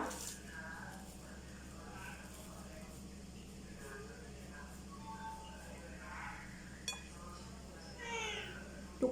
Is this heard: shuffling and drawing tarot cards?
no